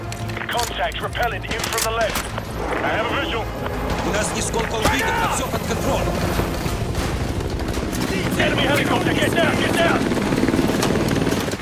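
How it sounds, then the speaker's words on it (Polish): Helicopter in the video game Call of Duty: Modern Warfare 2 Remastered, its rotor drone mixed with bursts of gunfire and explosions, while someone talks over the game action. "Jest śmigłowiec przed nami."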